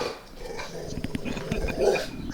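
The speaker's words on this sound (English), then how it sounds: "No, we must bark in this room." A dog indoors gives short growling, whimpering vocalizations in uneven bursts, close and moderately loud, with some room noise around it.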